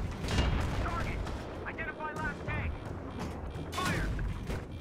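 Tank cannon blasts and gunfire in Battlefield 3, with two heavy booming shots near the start and end over a steady rumble of combat noise. Voices are heard in between.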